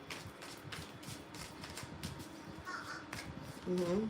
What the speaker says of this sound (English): There's a crow right there.